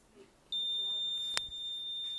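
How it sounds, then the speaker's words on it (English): A microwave alarm sounds a single sustained electronic beep that starts abruptly and holds steady, clear and close, with a sharp click partway through. "once it hits 60 again, it's going to sound the alarm"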